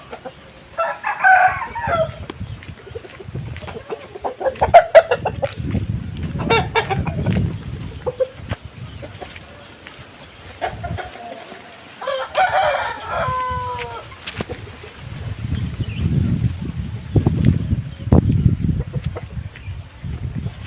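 Fighting roosters crow loudly several times, with clucking and low shuffling and thumping noises between the calls.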